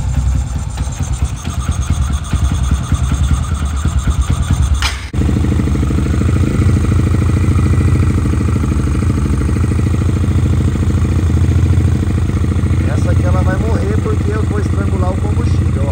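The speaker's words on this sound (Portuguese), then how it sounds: "liguei a moto, o motor tá frio" A motorcycle engine running cold and warming up during a fuel pressure test, a loud steady idle with a brief stumble partway through, then continuing evenly as someone talks over it.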